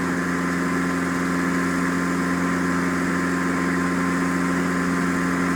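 A small propeller airplane engine drones steadily during takeoff in a flight simulator game, with a constant, loud hum and strong low tonal bands and no break or change in pitch.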